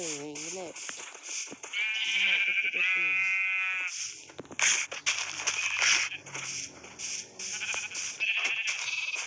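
Sheep bleat repeatedly on a sheep farm in the video game Minecraft, several wavering calls close and loud, mixed with a high electronic game tone and voices talking over them.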